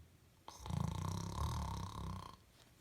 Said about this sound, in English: Sometimes there was snoring.